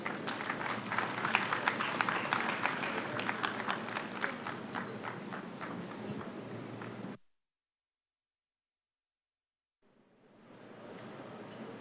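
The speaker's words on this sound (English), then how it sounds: "Let's welcome her with a round of applause." Business forum crowd applauding to welcome a speaker, a dense, steady wash of clapping for about seven seconds before cutting to silence, followed by faint room noise.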